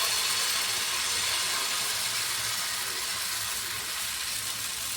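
Jowar thepla batter poured onto a hot oiled tawa sets off a steady, loud hissing sizzle that stays even and unbroken from start to finish, with no voices over it.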